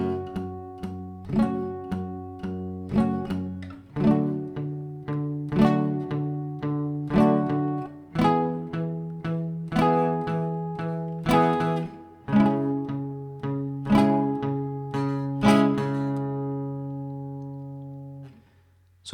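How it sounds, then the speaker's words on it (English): Palm-muted rhythm guitar strumming a pop strumming pattern, with short, damped chords in a repeating rhythm, steady and close with no talking. "That's what we call palm muting."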